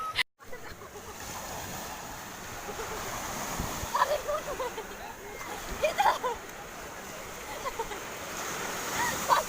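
Ocean waves wash onto Paal beach in Likupang, North Minahasa, as a steady surf hiss with a few louder splashes, the wave noise constant throughout under wind.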